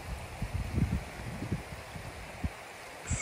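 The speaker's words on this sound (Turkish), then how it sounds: "Şırıl şırıl akıyor işte bak." A steady rush of flowing river water fills the background, with soft gurgles and low thumps scattered throughout.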